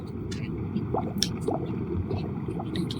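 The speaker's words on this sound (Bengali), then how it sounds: "এই যে ডুব মারলাম নিচে গেলাম" Submerging underwater in Minecraft gives a muffled, bubbly ambience with soft squishy gurgles and scattered droplet-like pops over a low steady wash.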